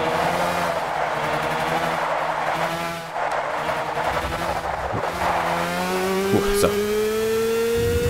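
Racing karts in Gran Turismo 6's Red Bull X Challenge snarl through tricky corners, their high engine notes rising and falling as they shift, with a brief spoken word over the racing.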